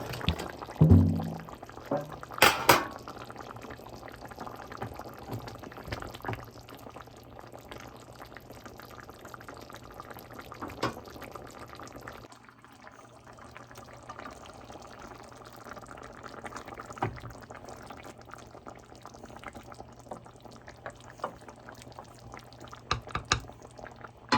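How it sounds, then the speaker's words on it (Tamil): Kumbla fish dropped into a pot of boiling mango curry: a splashy plop up front, then a soft, continuous bubbling simmer with occasional small clinks and splashes. "இப்போ மாங்காய் அவிஞ்சிட்டுது இப்போ இந்த கும்பலா மீனை இதுக்க போட்டு"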